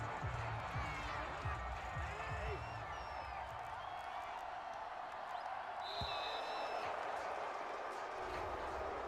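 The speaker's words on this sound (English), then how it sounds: "So this crowd will not go home happy." Stadium crowd noise from the Madden 22 football video game, a steady broad roar running the whole stretch at even loudness, with a voice talking over it.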